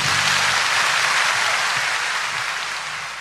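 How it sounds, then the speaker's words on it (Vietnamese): Loud, sustained audience applause for a Buddhist monk's speech at a Vesak celebration, a thick wash of many hands clapping that slowly fades toward the end. "Xin đại chúng hãy nổ một tràng pháo tay thật lớn"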